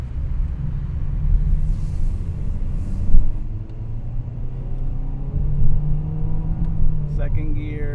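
A 2021 Honda HR-V EX AWD accelerates in sport mode with manual gear shifts, a low steady engine drone and road rumble heard from inside the cabin, rising and dipping slightly, while a driver talks over it.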